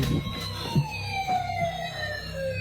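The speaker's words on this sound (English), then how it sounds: "I mean, I hear a siren or something." A siren wails with a slowly falling pitch, fairly clear but not very close, while a few low thumps and brief sounds occur underneath.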